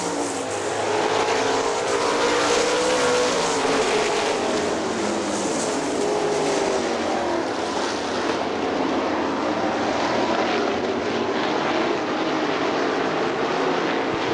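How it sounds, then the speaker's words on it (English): Sprint cars race on the dirt oval at Hartford Speedway Park, engines roaring steadily and loudly throughout as the pack drifts high through a turn, with no talk over the sustained, droning racket. "Eric Curry drifting up high in turn 3."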